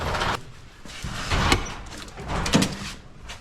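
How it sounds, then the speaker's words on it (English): A door is opened indoors with soft sliding and rustling sounds, close and moderately loud, in a short burst of shuffling movement. "Ooh, I should have not even opened the door."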